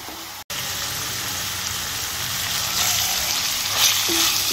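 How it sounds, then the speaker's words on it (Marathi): Onion frying in hot oil with bay leaf and spices while being browned for chole, a steady close sizzle that grows slightly busier toward the end, with no talking. "आता छान तांबूस रंगावर हा कांदा छान परतून घ्यायचा मसाल्यांबरोबर"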